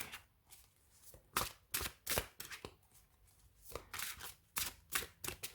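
Quick riffling, flapping bursts of a tarot deck being shuffled, coming in uneven bursts with short pauses, close and fairly quiet.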